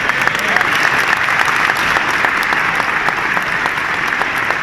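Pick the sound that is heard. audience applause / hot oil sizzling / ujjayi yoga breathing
audience applause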